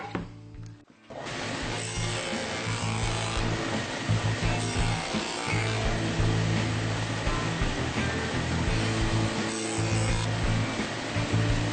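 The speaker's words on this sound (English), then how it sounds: "cut the other slot half the thickness of the rod" Power saw cutting a slot into wood for a ladder step, a steady loud broadband whine running continuously for most of the clip after a brief pause at the start, with no talking.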